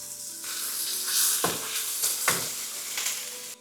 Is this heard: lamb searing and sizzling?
yes